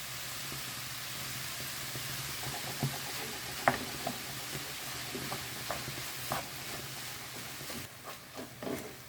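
Kefta pieces fry in a pan with coriander, parsley and garlic, giving a soft, steady sizzle with scattered crackles and pops and a few stirring clinks near the end, all fairly quiet and with nobody talking.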